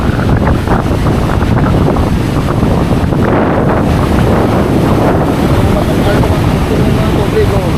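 Strong wind buffets the microphone over crashing sea waves on a shore during a storm with huge waves, a steady loud roar without a break, while people talk throughout.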